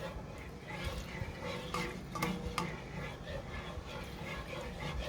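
A spoon stirs broccoli cheddar soup in a pot, a faint steady swishing with a few soft clicks against the pot, quiet and close, with no one talking.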